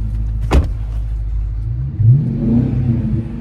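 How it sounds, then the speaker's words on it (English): A 2021 Dodge Charger R/T with its Hemi V8 idles with a deep, steady rumble, a sharp blip of the throttle near the start and a second rising rev about two-thirds through, recorded close and with no talking. "So that Hemi sounds really good."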